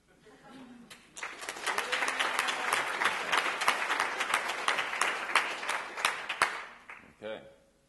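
An audience applauds a pitched product idea during a talk on taking ideas to market. Clapping swells quickly after a brief voice, holds as a full, lively crowd sound for several seconds, then fades as a voice returns.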